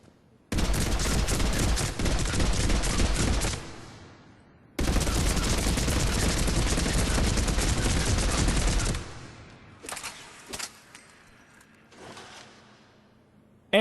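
The Revenant assault rifle in Mass Effect 3 fires two long, loud full-auto bursts, each several seconds of dense, rapid shots, followed by quieter scattered impacts and echoes.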